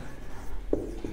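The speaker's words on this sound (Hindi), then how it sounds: "अब अगली हेडिंग लिखेंगे" Chalk or marker scratches briefly on a classroom board, a faint short stroke or two under low room noise.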